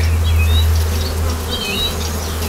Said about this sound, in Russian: Сейчас смету пчелу, переберу